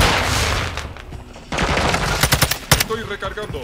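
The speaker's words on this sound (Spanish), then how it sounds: "de los nervios le disparé a la pared" Rapid automatic gunfire in Call of Duty MW2 team deathmatch, a sustained burst followed by a run of distinct loud shots and clattering impacts, close and sharp, with a faint voice underneath.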